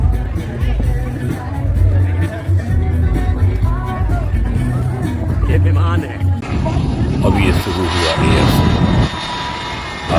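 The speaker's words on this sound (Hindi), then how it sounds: "हवाई जहाज़ों के करतब, वो भी फाइटर विमान जो ऐसे उड़ते हैं जैसे बाज उड़ रहा हो।" Roaring fighter jets performing aerobatics at a Texas air show, loud engine thunder swelling and shifting as they pass, with crowd chatter underneath and a sharper, brighter blast near the end.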